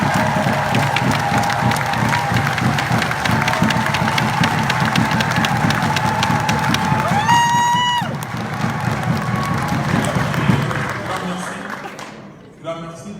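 An audience at a press conference in Brussels gives sustained applause and cheering, dense and even for about ten seconds before it thins out and fades.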